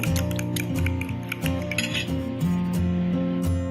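A fork beats egg with black pepper in a bowl, tapping and clinking steadily against the sides over continuous background music.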